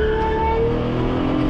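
A loud, close Plymouth Prowler engine revs hard and climbs in pitch as it accelerates on an open road, a continuous throaty roar with no voices.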